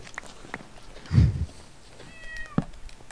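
A cat meows in Minecraft, a short harmonic call rising mid-clip over soft in-game ambience, with footstep clicks and a brief thump around it.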